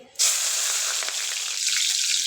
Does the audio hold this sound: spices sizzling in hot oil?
yes